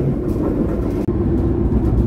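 The Lodaya passenger train runs near Banjar station with a loud, steady rumble of wheels and engine heard from on board, a brief dropout midway, and no talk.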